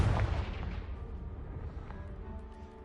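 A Confringo blasting spell goes off in a video game, a loud booming explosion at the start that rolls away into a long fading rumble of debris and echo.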